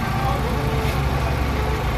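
A 2001 Opel Vectra engine, just repaired after an oil leak and a loose fuel return hose, idles with a steady, even low rumble and no voices.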